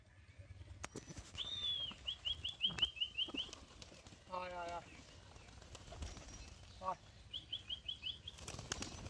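Bursts of pigeon wings flapping, close and loud, come in quick clattering runs, with short gaps of quiet between them; the birds are Bengali tumbler pigeons (tolgoram).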